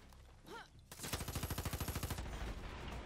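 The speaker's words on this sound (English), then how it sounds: "this gun's fire rate's kind of crazy" Rapid full-auto assault rifle bursts from Far Cry 6, a dense string of sharp shots at a steady fast rhythm lasting about a second, loud and close, preceded by quieter game ambience.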